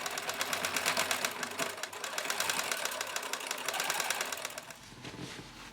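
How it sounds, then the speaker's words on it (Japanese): A sewing machine stitches elastic onto the back waistband of an adult garment, a steady rapid mechanical rattle running continuously at moderate level before easing off near the end. "もう片方のゴムも縫い付けよう。"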